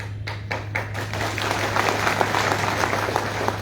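Audience at a Gujjar Bakerwal convention in Jammu claps steadily, a dense rolling applause after a few isolated claps, over a constant low electrical hum.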